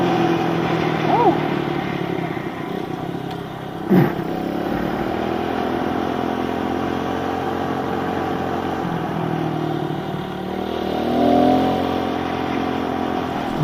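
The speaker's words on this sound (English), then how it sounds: "First wheelie of the day." A motorcycle engine revving hard as the rider pulls a wheelie, a loud close drone that climbs and holds with a sharp burst near the start, a voice briefly heard over it.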